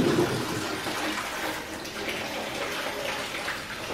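Water runs and splashes steadily over vegetables set to soak in a kitchen basin, a loud continuous rushing stream with no talk.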